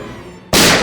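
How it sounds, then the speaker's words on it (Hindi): A single sharp, loud indoor gunshot from a TV crime drama bursts out after a half-second of quiet room tone, then rings on briefly. "गोली चली अंदर।"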